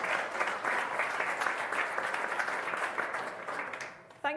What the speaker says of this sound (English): So if you can give them a big round of applause